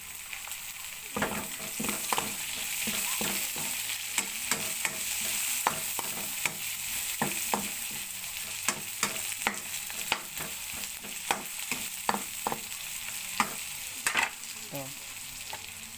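Onion sautéing in oil in a frying pan with garlic, for a cabbage stir-fry, under a steady close sizzle, with a spatula scraping and clacking against the pan in frequent irregular strokes throughout.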